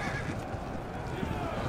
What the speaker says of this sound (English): Cavalry. Drive the horses!